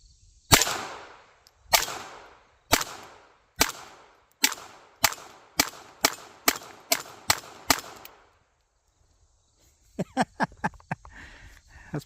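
Taurus TX22 pistol fired rapidly at a target 15 yards away on a range, a dozen sharp cracks at a quickening pace, followed after a pause by a quicker, fainter burst of shots.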